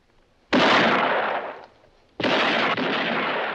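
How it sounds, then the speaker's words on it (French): Two long, loud gunshot bursts from the 1964 western A Fistful of Dollars, each a sharp blast with a rolling echoing tail, separated by a brief quieter gap. "Oh là, il tire n'importe où, Bordios."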